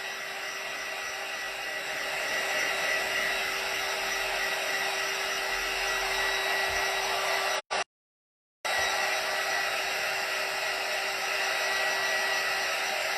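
A heat tool blowing on an alcohol ink tumbler gives a loud, steady close-up whoosh of hot air with a faint tonal hum, briefly cutting out near the middle before carrying on, with no voices.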